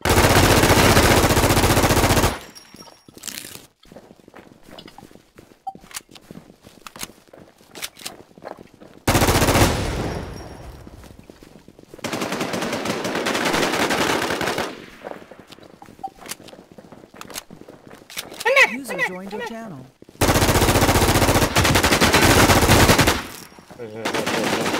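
Long bursts of loud automatic gunfire from the online zombie survival shooter Infestation alternate with quieter stretches of scattered shots and game noises, with a voice at times.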